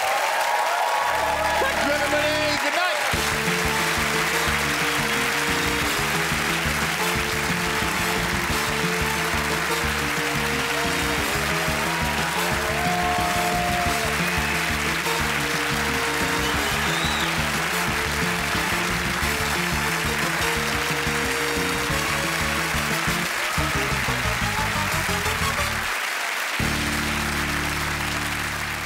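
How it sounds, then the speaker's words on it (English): Studio audience applause at the close of a Taskmaster comedy panel show episode: sustained, dense clapping over the theme music, with a brief spoken sign-off near the start. "Let's hear some more clapping for tonight's winner"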